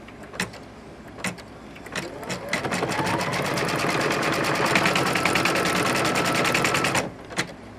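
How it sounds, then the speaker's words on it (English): A computerized embroidery machine stitches a placement outline for a mitten appliqué piece: a dense, rapid, steady run of needle strokes lasting about five seconds, starting and stopping with a few isolated clicks. "now it's going to do my placement stitch so I know where the piece of the mitten is going to go"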